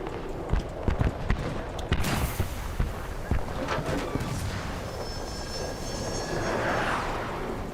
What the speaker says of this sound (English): That's our jet.